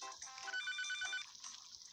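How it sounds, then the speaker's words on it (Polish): A telephone rings in the video game Papa's Cheeseria To Go, a bright electronic trilling tone repeating across two seconds at moderate level, with faint soft background noise. "O, dzwoni ktoś."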